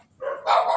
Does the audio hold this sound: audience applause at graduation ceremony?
no